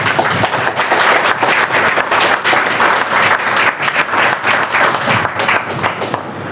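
A dense burst of audience applause at a women's day celebration, steady loud clapping from a large crowd lasting several seconds without a break.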